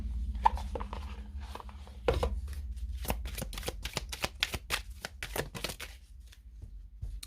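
Oracle love cards are shuffled by hand in a quiet room, giving a soft run of quick papery riffles and taps that grows into a rapid crisp series of flicks, close and alone.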